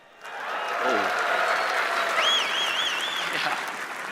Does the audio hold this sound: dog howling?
no